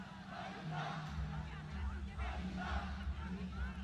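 Crowd chanting Allah Allah at the Wagah border ceremony, rhythmic massed voices swelling in repeated waves over a low rumble, distant and reverberant.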